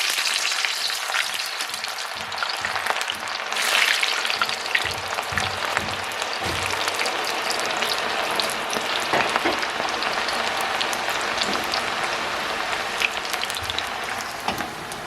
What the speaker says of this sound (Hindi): अब मैं फ्राइज पहले फ्राई करूंगी।